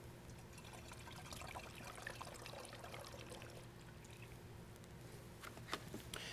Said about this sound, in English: Now all you have to do is fill it the rest of the way up with distilled water.